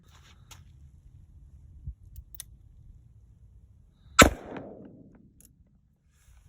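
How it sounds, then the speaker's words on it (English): A single .357 SIG handgun shot rings out outdoors in cold, wet, dark conditions: one sharp, loud crack with a brief fading tail, set against quiet rainy background noise with a few faint ticks before it. "Donna shooting the Magnum"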